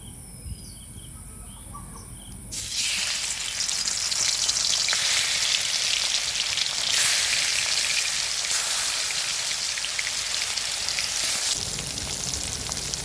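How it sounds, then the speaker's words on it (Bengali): Spiced bhola fish hitting hot mustard oil in a village kitchen sets off a sudden, loud, steady sizzle that holds strong for about ten seconds after a quieter start, with no voices. "তেলটা গরম হয়ে গেছে, তেলটা নেড়ে চেড়ে এবার মশলা মাখানো মাছটা দিয়ে দেব"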